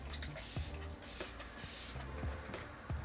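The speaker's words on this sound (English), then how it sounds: "I like to use setting spray now" Three short hissing spritzes from a makeup setting spray bottle, evenly spaced, close and fairly soft, with faint handling sounds between them.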